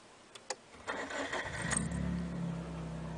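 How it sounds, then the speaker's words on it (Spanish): A manual-transmission car with the clutch fully pressed starts up: a few faint clicks, then the starter cranks and the engine catches into a steady, close idle. "Clutch al fondo y enciendo el carro."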